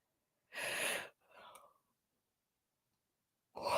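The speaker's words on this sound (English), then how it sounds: "I've got another yawn coming. I can feel it." A person yawns: a loud, breathy, drawn-out exhale of about half a second, then a softer trailing breath, a stretch of quiet, and another breathy burst starting at the very end.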